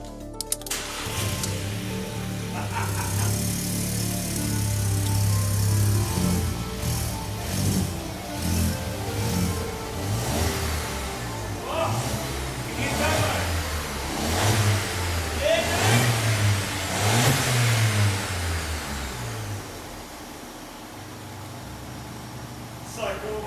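A Volkswagen Up GTI engine, converted in a full build, cranks, catches and revs repeatedly in rising and falling bursts, loud and close, with people talking over it.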